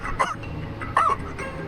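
A man sitting on a sofa drinking tea suddenly coughs, two short, close hacking bursts about three-quarters of a second apart.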